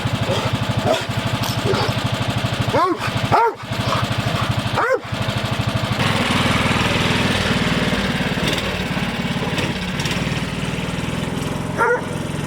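A four-wheeler buggy engine idling and running steadily outdoors, a continuous buzzing drone with a dog barking several times nearby over it.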